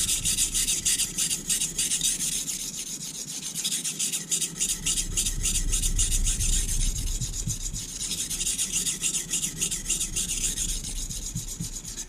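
A knife is drawn in steady back-and-forth strokes across the fine side of a dished, secondhand whetstone lubricated with mineral oil, giving a close, continuous rasping scrape with rhythmic pulses and no talk.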